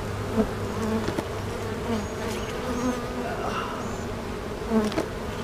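A swarm of honeybees drones continuously nearby with layered buzzing at a steady level, and a few individual bees pass closer with rising and falling tones.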